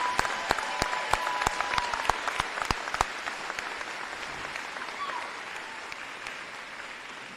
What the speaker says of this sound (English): Parents, join me in just giving them one more round of applause.